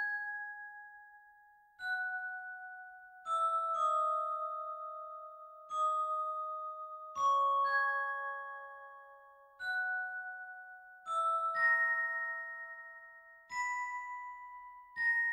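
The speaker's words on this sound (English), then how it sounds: "this is what the bell sounds like" A synthesized bell tone plays a slow melody of sustained two-note chords, each struck softly and decaying gently, about every two seconds.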